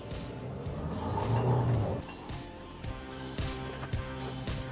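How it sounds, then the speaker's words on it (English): SsangYong Tivoli diesel car accelerating with traction control engaging, a moderate engine surge that swells and fades, followed by quieter intermittent engine and road noise. "Sorry, I have traction control working overtime there."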